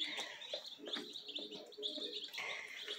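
Baby chicks in a brooder cheep in quick, high repeated peeps, several birds overlapping close by in a quiet indoor space.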